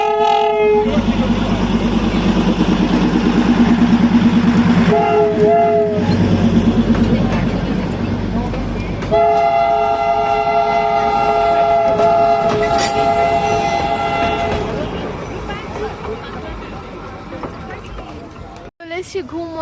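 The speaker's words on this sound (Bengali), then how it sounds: "দেখো ফাইনালি এখানে টয় ট্রেন চলে এসছে" The Darjeeling toy train rolls past loudly near Ghum with a clattering rumble as its horn sounds in long held blasts, then it fades away. People talk close by.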